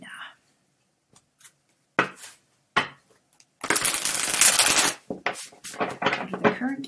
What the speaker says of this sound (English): I shuffle the cards